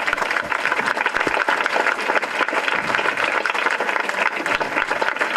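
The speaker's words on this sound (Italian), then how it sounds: "Un grandissimo applauso a loro." Applause from an audience at a Lions Club event in Agrigento, a dense, steady wash of many hands clapping at full volume for the whole stretch, with no voices over it.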